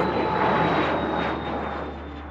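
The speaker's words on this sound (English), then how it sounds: "When a plane takes off, air rushes past its wings" Fixed-wing airplane taking off: a steady jet-engine roar with a high whine on top, loud at first and easing slightly as it carries on, alone with no voices.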